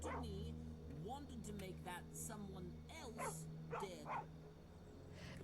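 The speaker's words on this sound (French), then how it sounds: "il y a un chien qui nous a suivis là" A dog in the Skyrim video game barks and whimpers in several short bursts, mixed under steady game music and ambience with a voice talking over it.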